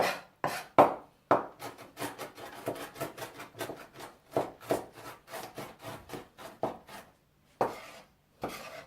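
A knife cuts thin dough for Chinese ravioli on a board, producing a rapid series of crisp chopping taps, irregular and close, with brief pauses between bursts.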